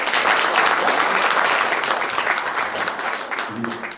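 Audience applause at a Korean local political forum on regional development, a dense, steady burst of many hands clapping that thins slightly toward the end.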